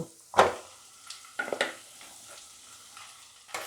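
Potatoes with salt, sugar, turmeric and vegetable spice mix being stirred and sautéed in a hot pan, with soft sizzling and several scraping stir strokes close by, and no talking.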